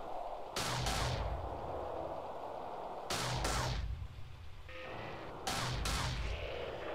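Spaceship weapons fire in EVE Online in three heavy booming volleys spaced a few seconds apart, each a loud, broad blast with a rumbling tail, under a steady low background drone.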